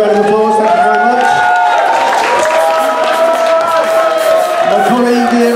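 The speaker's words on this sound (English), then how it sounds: "Give them a big round of applause." A crowd gives a big round of applause at an evening music performance event, with loud, steady clapping and cheering that fills the whole stretch, mixed with voices and tonal sound.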